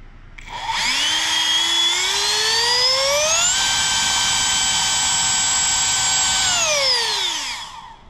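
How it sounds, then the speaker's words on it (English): A 50mm Dr. Mad Thrust electric ducted fan runs on a 4S battery in a bench test, spooling up into a loud, piercing whine, holding at full throttle, then winding down. "test number 1 with the 50mm Dr. Mad Thrust EDF on a 4S battery"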